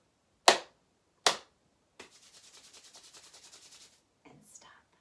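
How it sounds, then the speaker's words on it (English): Hands clap sharply twice, with a softer third clap leading into several seconds of rhythmic palm rubbing. Everything is close and clear against near silence, ending with a faint brushing sound. "So I want us to clap our hands 3 times and rub them together"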